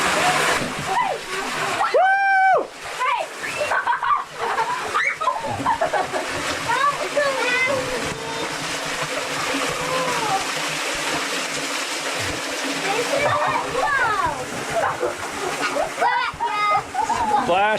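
Kids splashing in a shallow creek during a family camping trip in southern Utah, with continuous watery splashes and rushing flow under excited children's shouts and chatter.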